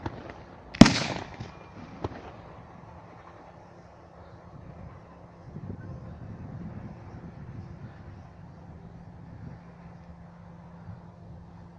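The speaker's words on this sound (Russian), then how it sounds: "Фейерверк на 100 тысяч." A fireworks display over the town of Kansk opens with one sharp, loud bang, then settles into softer distant rumbling and faint scattered crackles that continue quietly.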